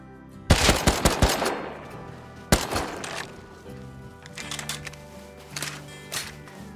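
Gunfire in the video game Rust rings out from the coast: a rapid volley of sharp cracks, then a single loud shot and a scattered string of quieter, more distant rounds.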